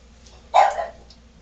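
A dog in a home kitchen gives a single sharp bark, close and fairly loud, followed by a faint yip and quiet background.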